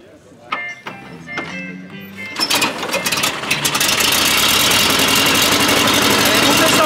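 A 1970s mobylette moped engine cranks, catches and settles into a rising buzzy running note that grows louder and steadier, close by. Scattered clanks come first, and people talk briefly before it starts.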